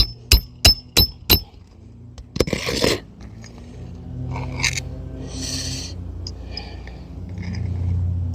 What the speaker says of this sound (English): and we hammer away into new holes for obvious reasons.